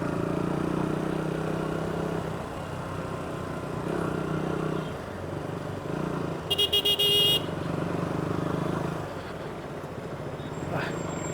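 Heavy street traffic in Kattankudy rumbles steadily with motorcycle and car engines. A loud car horn blares in a short series of honks midway, and voices mix into the busy road noise.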